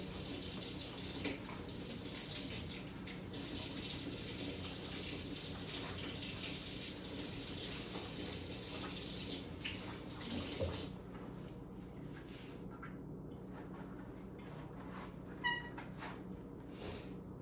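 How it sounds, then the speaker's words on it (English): Water runs steadily from a tap for about eleven seconds as instruments are rinsed, then stops, leaving quieter room noise with a faint clink. "give them a rinse with sterile water"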